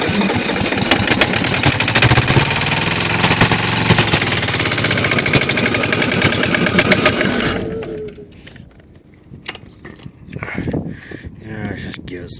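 A Kohler KD425-2 diesel engine cranks and runs hard under a steady, loud mechanical clatter for about seven seconds, then cuts out, leaving quieter knocks, rattles and a voice nearby.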